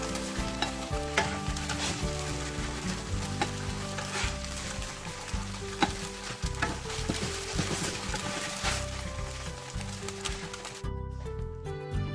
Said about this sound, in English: gonna sear it on both sides